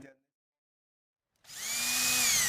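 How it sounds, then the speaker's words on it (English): After a brief knock and over a second of silence, a power drill with a masonry bit starts boring into a plaster wall, a loud steady whine holding close and continuous to the end. "drill through the plaster till you hit the lath, the wood"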